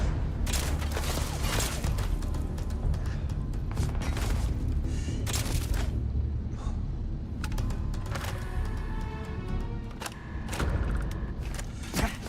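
Rapid bursts of sci-fi gunfire crack through a combat scene in Starfield, landing in dense clusters over a steady noisy background with no talking.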